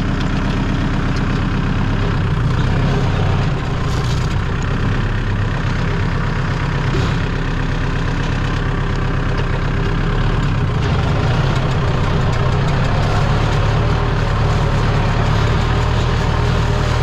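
A farm tractor engine with high wheels runs steadily in first gear, a loud, close, continuous low diesel drone with a steady rumbling pulse that holds for the whole stretch, with no talking.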